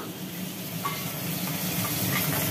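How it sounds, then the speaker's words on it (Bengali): Fish sizzles in hot oil with a continuous, even crackle and hiss. The frying stays close and moderately loud, with a few faint clicks on top. "মাছটা ভাজা হোক।"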